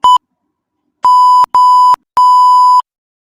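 The backwash timer on an RM300 external water filter sounds one short beep followed by three longer steady beeps, loud, clean and close, each separated by brief silence.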